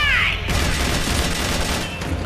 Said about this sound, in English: she's shooting at me in my metal cover